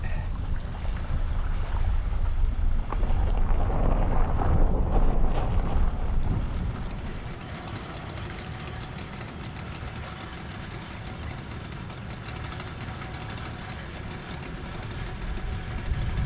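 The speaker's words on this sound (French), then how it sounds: "Le câble, il est simplement là pour le tenir et c'est des moteurs hors bord." Outboard motors on a cable ferry in New Caledonia drone steadily nearby, a low rumbling engine hum mixed with wind, louder at first then settling to a constant level.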